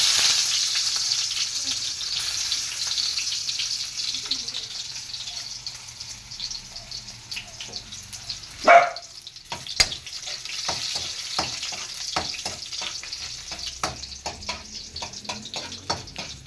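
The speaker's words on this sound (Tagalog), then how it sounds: "Gisa natin yung bawang, yung sibuyas at saka luya." Garlic, onion and ginger sauté in a hot pan, a steady close sizzle with scattered stirring clatters and one sharp knock partway through.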